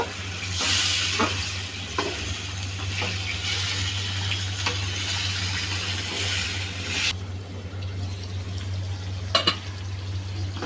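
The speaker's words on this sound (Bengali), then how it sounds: "মাছটা দিয়ে এই মশলার ঝোলের মধ্যে আমি ভালো করে আবারও কষিয়ে নেব 2 মিনিট পর্যন্ত।" Sea pangasius fish frying and being stirred in a spice gravy, a steady bubbling sizzle with occasional scrapes that quietens near the end, followed by a couple of sharp utensil knocks, without speech.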